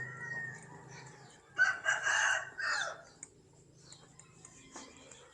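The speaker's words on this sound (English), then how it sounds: "So they do have roosters tied in here." Roosters kept tied inside a house under construction in the Philippines crow loudly in one nearby burst, with softer clucks and faint background noise around it.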